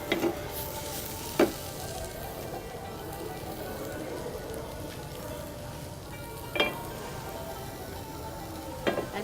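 Vegetables fry and sizzle in a pan under a continuous low crackle, with a few sharp scrapes and knocks from stirring spaced out across the stretch.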